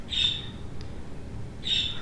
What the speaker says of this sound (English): Hopefully my birds don't bother you too much.